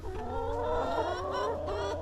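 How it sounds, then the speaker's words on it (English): Several chickens cluck and murmur close by in an uneven, chattering stream, with no talking. "having chickens is real interesting. And you hear how vocal they are."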